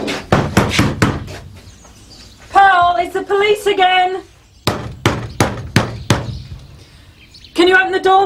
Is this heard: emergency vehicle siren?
no